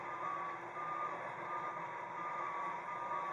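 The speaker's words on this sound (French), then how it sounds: "quand le scrap est en position de transport, voilà, il va beaucoup plus vite" A motor scraper with its bowl raised travels at speed in transport position. A steady engine drone runs throughout, with a faint repeating electronic beep over it. No voices.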